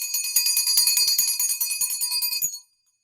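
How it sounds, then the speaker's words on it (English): Small hand bell rung to clear energy during a tarot reading, a rapid continuous shimmering ring lasting a couple of seconds before stopping abruptly into silence. "I'm going to use my mom's bell"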